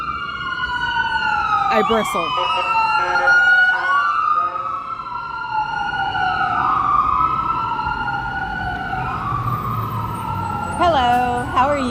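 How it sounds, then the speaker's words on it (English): An emergency siren wails up and down repeatedly at moderate distance, with a brief voice and some street noise. "I hear a siren."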